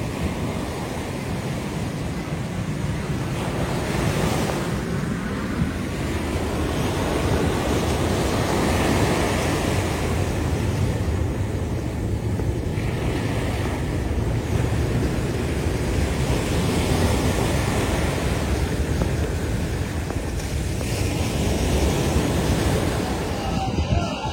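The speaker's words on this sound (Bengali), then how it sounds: "দেখছেন কি বিশাল বিশাল ঢেউ, অনেক বিশাল বিশাল ঢেউ।" Loud, continuous roar of large Atlantic Ocean waves crashing and rushing on an American beach, steady surf noise with gusts of wind across the microphone.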